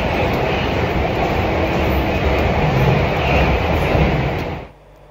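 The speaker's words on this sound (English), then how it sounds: "we're going to Canary Wharf and we're riding the DLR." A Docklands Light Railway train bound for Canary Wharf rumbles loudly and continuously from inside the carriage, the steady rolling roar dropping away sharply at the very end.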